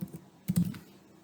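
A username is typed on a computer keyboard in a few quiet, close keystrokes, with a small cluster of clicks near the middle.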